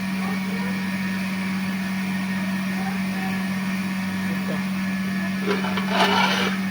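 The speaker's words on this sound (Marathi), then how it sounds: "गिरण चालू आहे आमची. गहू संपले होते तर गहू लावले मी दळायला." A steady mechanical drone of an electric flour mill grinding wheat, constant and close, with a few clicks and a brief rattle near the end.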